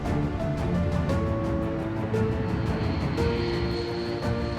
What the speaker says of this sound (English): Its long, slender wings and 8 roaring engines may not boast the sleekness of the B-2